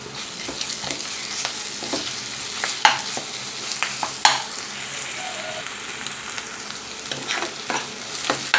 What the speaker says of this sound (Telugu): ఒక స్పూన్ అల్లం వెల్లుల్లి పేస్ట్ వేసి వేయించుకుందాం